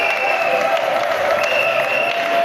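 Church congregation applauding and cheering during a sermon, a dense, loud, continuous wash of clapping with crowd voices and a sustained tone underneath.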